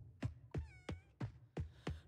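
A cat in the farming video game Coral Island meows six times in an even rhythm, each call short, close and clear against a quiet low hum.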